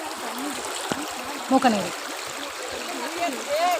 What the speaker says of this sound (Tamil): இங்கே தண்ணி கொஞ்சம் கம்மியாக தான் போகுது